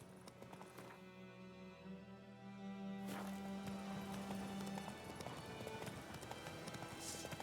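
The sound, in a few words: horse galloping in The Witcher 3 video game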